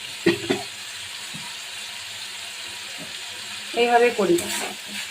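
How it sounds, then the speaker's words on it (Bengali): Katla fish head in hot oil for a mung dal dish gives two short bursts of sharp sizzling spatter, near and clear, separated by a quieter stretch of faint background hiss. "এটা তেলটা হলে মাছের মাথাটা দিয়ে দেবো ওটা।"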